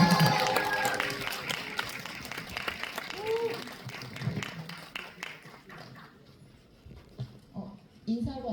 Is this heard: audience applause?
yes